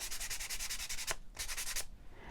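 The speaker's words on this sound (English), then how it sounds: "So I'm going to go ahead and sand all of these." Close, rhythmic back-and-forth rasp of hand sanding on small wooden shiplap platter pieces on a tabletop, broken by a brief pause before the strokes resume, then fade out.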